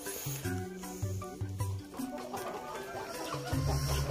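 Shamo chickens cluck in a busy, overlapping chorus while feeding, several birds close by with low repeated calls throughout.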